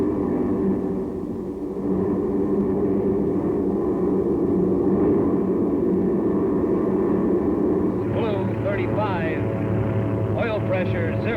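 A loud, rough World War II airplane engine drones steadily, wavering and straining as it bucks with zero pressure, with a voice speaking over it toward the end.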